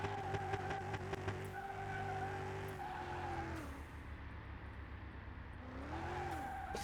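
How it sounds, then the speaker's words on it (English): Racing video game car being drifted, engine droning steadily with harmonic whine while tires skid and squeal in a long sustained slide, loud and continuous with a rising pitch sweep near the end. "I'm drifting it"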